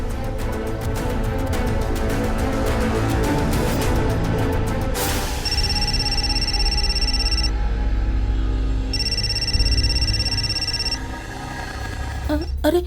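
Two long electronic ring tones of an outgoing phone call sound over a dense background of voices and noise, separated by a pause.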